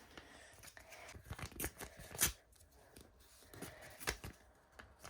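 Paper surprise packet torn open by hand at close range: a quiet series of short ripping and crinkling bursts, with one sharper tear near the middle.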